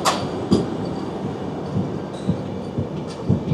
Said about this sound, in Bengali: এই দেখুন বন্দে ভারত ঢুকছে